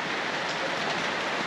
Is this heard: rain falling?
yes